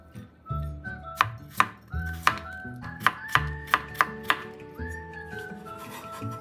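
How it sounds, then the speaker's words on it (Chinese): Peeled water chestnuts are chopped into small pieces with a knife on a board, giving a series of crisp, sharp, closely spaced chops in uneven bursts. A faint steady tone hums underneath, and nobody speaks. "5个马蹄，去皮后切成小颗粒"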